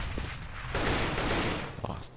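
Gunfire in the video game Counter-Strike on the map de_mirage during an ESC Gaming vs. Russian Roulette tournament match, a dense burst of rapid shots lasting about a second over a steady background, with a single later shot.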